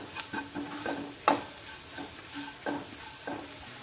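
Mutton for a ghee roast is stirred and mixed in a pan, soft sizzling broken by several scraping strokes of a spoon at an uneven pace, one louder scrape near the middle.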